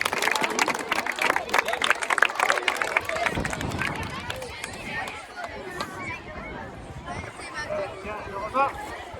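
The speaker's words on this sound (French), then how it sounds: "Ah, on peut les applaudir." Crowd applause for primary school pupils at a school cross-country race in Ploërmel: dense, sharp clapping for about four seconds, then fading as voices and chatter take over.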